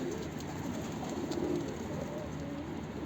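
Pigeons coo at a coop on a rooftop, with soft, overlapping low cooing calls continuing close by over a constant background hiss.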